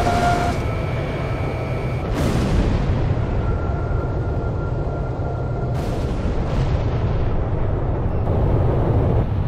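Explosions destroying cooling units in Ace Combat 6, several sharp booms at intervals over a continuous loud roar of jet engines and battle noise, with no talk.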